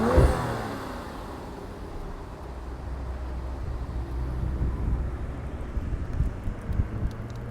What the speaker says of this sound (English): let's fire this up and hear what it sounds like